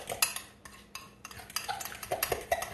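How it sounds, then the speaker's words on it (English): Keto pancake batter mixed in a bowl, with steady scraping and clinking of a utensil against the dish in an irregular stirring rhythm, fairly quiet and close, with no voices. "Get it all mixed up here."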